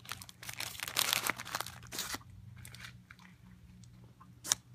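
A bite into a McDonald's Guacamole Crispy Chicken Sandwich with crispy breaded chicken, close to the mic: crunching bites followed by chewing and wrapper crinkle in a quiet room at night, then a soft mouth sound near the end.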